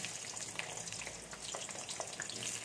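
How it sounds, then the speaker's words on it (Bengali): Potatoes dropped into hot oil crackle and sizzle in a dense, continuous fizz of small pops, fairly quiet and close, with no voices over it. "তেল গরম হয়ে গেছে। আমি এবার আলুগুলো দিয়ে দিচ্ছি।"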